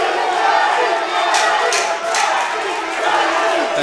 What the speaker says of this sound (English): And Manny's crowd starting to get loud again.